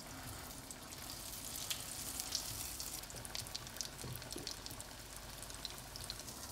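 A cutlet frying in a pan of Indian food, with a continuous faint crackling sizzle and scattered small pops, close and steady throughout.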